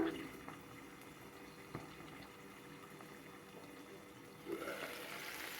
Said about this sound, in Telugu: చూసారా చక్కగా ఉడుకుతున్నాయి